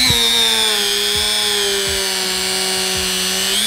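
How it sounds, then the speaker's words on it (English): A Dremel rotary tool fitted with a soft wire brush strips paint from a part, giving a loud, steady high-pitched whine that holds without a break at close range. "I'm using the Dremel with a little wire brush"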